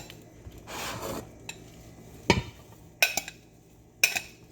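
Fried rice being mixed with a utensil and scooped into a bowl, a soft rustling stir followed by several sharp spoon-on-dish clanks and scrapes, close and clear with no talking.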